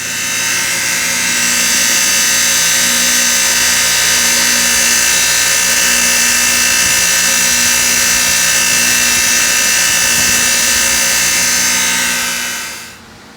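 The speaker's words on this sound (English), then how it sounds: "I'm going to run that tube on the wire wheel here" Bench wire wheel running continuously at high speed while cleaning a metal oil cooler tube from a 2000 7.3 diesel, a loud steady whine with a rough scrubbing hiss that spins down at the end.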